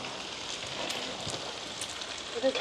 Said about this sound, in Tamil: இந்த தாளிப்பு ரெடி ஆகி கொண்டிருக்குது